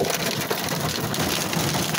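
Hail falling outdoors, a dense, loud, continuous patter of hard pellets striking surfaces, steady throughout with no pauses and no voices.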